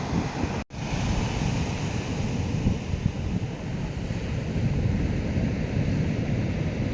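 Surf at Ciwidik beach in southern Cianjur, a steady wash of breaking waves mixed with wind buffeting the microphone, continuous and moderately loud, with no voices.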